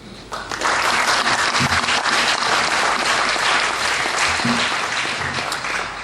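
An audience at a club president's acceptance event breaks into loud, sustained applause for the past president, dense clapping building quickly and holding for several seconds.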